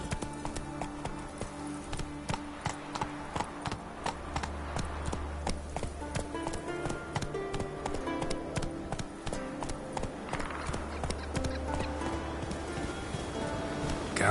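Horse hooves clip-clopping at a steady galloping rhythm in the Witcher 3 video game, close and continuous, over a layer of game music with no talk.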